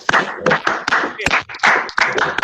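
Several people on an online call clapping for themselves, uneven bursts of close claps with some speech-like noise mixed in.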